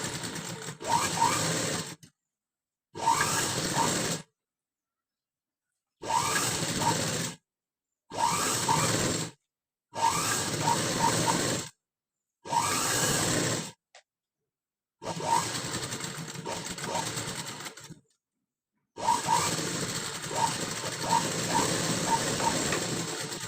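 A sewing machine stitches folded blouse fabric in about eight short mechanical whirring runs, each a second or two long, separated by brief silent pauses, loud and close with no talking.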